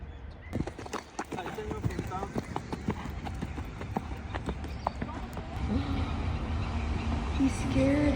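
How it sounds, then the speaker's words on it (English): Horse hooves clip-clop steadily along a dirt trail, a white horse passing close by with a rapid, uneven rhythm, while a vehicle engine rumbles louder in the background toward the end. "It's a white horse."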